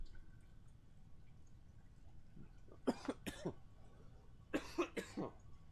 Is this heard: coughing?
yes